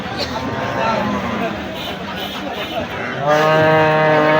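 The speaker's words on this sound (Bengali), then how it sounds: "এই যে গরু নামতেছে একটা বিশাল আকৃতির গরু" Livestock noises amid a busy outdoor market scene as large black-and-white cattle are unloaded from a truck, with a low moo and a steady crowd murmur, voices talking throughout.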